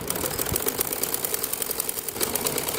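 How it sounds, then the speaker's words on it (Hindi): A sewing machine runs steadily, stitching fabric for a pair of men's Bermuda shorts in a rapid, even mechanical chatter that stays close and continuous throughout. "इधर से भी और इधर से भी मैं सिलाई कर रही हूँ।"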